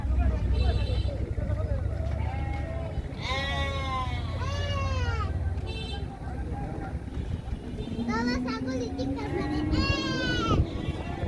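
Goats bleat repeatedly in an open outdoor spot where chickens are also kept, loud wavering cries in two bursts while people talk and children's voices mix in around them.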